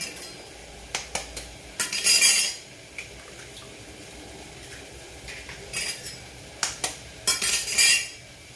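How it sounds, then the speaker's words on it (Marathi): Three eggs are beaten in a bowl, with bursts of quick metal clinking and scraping against the dish separated by quieter pauses, heard close up and without talk. "आता हे तिन्ही अंडी फोडून झाले आणि एकसारखे असे हलवून घ्यायचे"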